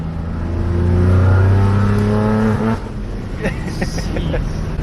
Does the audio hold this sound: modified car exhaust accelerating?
yes